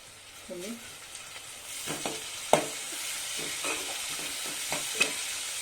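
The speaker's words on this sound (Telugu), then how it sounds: "ఇలా కలుపుకోవాలండి. ఇది మంచిగా ఫ్రై కావాలి." Mutton keema sizzles in a pan with crushed garlic, turmeric and mint leaves while a spoon scrapes and stirs it in short, irregular strokes; steady close frying hiss with clinks of utensil against the pan.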